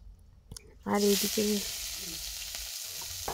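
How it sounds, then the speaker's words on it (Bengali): Flattened rice suddenly starts sizzling loudly in a hot pan and keeps frying steadily, while a voice speaks briefly over it. "আজকে সন্ধ্যাবেলা আর একটু চিড়া ওকে ভেজে দিচ্ছি"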